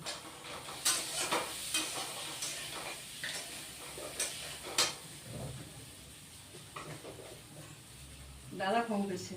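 Chopped tomatoes tipped into a pan for a rohu fish curry with ridge gourd and potato, then stirred, giving light clinks and scrapes over a soft sizzle, with a brief voice near the end.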